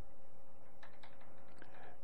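Quick keystrokes on a computer keyboard while entering a string during a software build setup, a short burst of light clicking taps near the end after a moment of steady background hum, with no voices.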